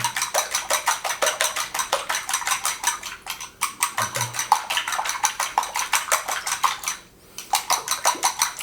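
A whisk or spoon beats chili paste mixture against a bowl for curry flower crab in a rapid, steady train of close clinking strikes. The beating pauses briefly twice, then resumes, and no one speaks.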